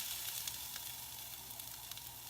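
Steady sizzling of clams being stir-fried in a hot pan as ginger goes in, a continuous bright hiss with faint crackles, close and alone without talk.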